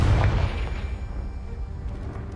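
A Confringo fire-spell blast in Hogwarts Legacy goes off as a single booming burst at the start and then trails into a fading rumble and some faint debris.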